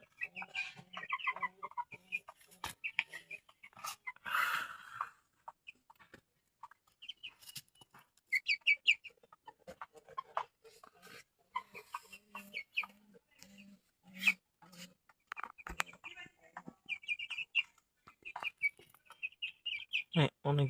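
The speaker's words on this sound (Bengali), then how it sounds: "আজকে সব মুরগিকে ছেড়ে দিয়েছি মাটিতে, কতক্ষণ ওরা হাঁটাহাঁটি করুক।" Chickens let out to roam on bare ground cluck and chirp in a steady, overlapping chatter close by, with a few sharper calls rising above the flock throughout.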